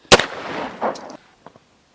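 A single sharp gunshot at an indoor shooting range during pistol training, a loud close crack followed by a short echoing decay and a couple of faint clicks.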